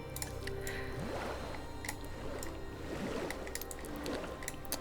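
Soft squishy, dripping liquid effects from a water tool in a park-building video game, repeating in irregular bursts over a steady low background hum with faint clicks.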